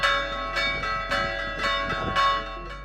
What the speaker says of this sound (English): the church bells welcomed her